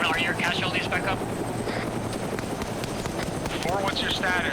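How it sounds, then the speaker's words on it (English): A helicopter in a military shooter game thrums steadily beneath close radio chatter and squad voices, with bursts of talk at the start and end. "Are you going to be able to shoot the helicopter down?"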